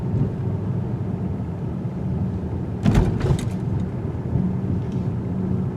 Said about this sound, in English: when you hit bumps, you get a lot of thumping noises